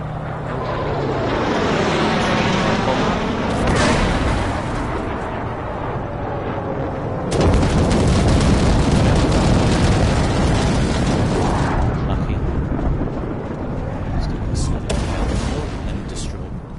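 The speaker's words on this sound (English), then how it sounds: "So he's like firing rockets." Rockets fire and burst in a tank battle in Armored Warfare on PS4, with a T-72B in play: loud, continuous booming and rumbling blasts that swell and crack repeatedly over a steady roar of gunfire.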